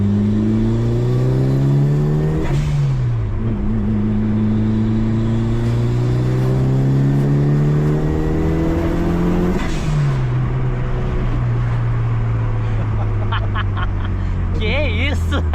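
A 1996 Mitsubishi Lancer Evolution IV GSR engine revving hard during a test drive, loud steady engine drone climbing in pitch through gears with shifts between, close and continuous, with people talking over it at times.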